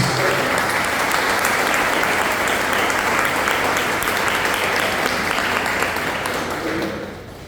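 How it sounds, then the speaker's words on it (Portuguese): A church congregation bursts into sustained, dense applause, many hands clapping steadily for several seconds before fading at the end. "Vamos aplaudir a palavra de Deus."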